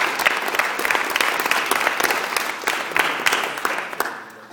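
An audience at a university lecture applauds to welcome the speaker, a dense, steady wash of clapping from a roomful of people that fades slightly toward the end.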